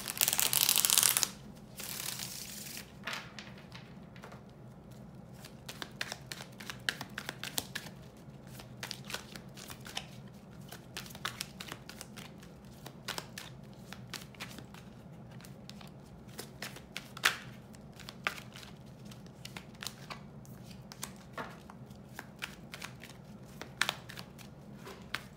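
Tarot cards being shuffled for a Celtic cross spread: a continuous run of soft, close riffling and flicking with sharp card snaps scattered throughout, quiet and unaccompanied by speech.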